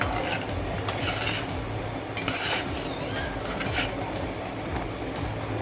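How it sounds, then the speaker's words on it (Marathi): Rice cooking in a pot for jaggery kheer being stirred continuously, with a spoon scraping and clinking against the pot over a steady background bubble and rumble, close and moderately loud. "हे सतत एकसारखं आपण हे ढवळत राहायचं आहे"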